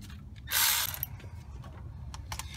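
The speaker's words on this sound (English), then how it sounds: "Let's take these bolts off now. I can use the cordless because we have more room now." A cordless impact tool rattles briefly and loudly while removing water pump bolts on a 2007 Hummer H3, a single burst of about half a second followed by quieter mechanical clicks and handling noise.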